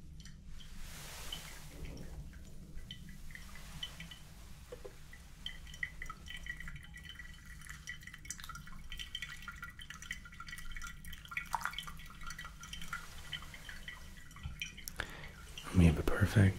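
Coffee from a final pour slowly draining and dripping through the filter, soft irregular drips, quiet and close, under whispered talk.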